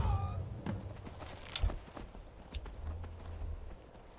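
A horse in Skyrim moves off with a scattered run of hoof clops and a few heavier thuds, moderately close, alongside low rumbling game ambience and no talk.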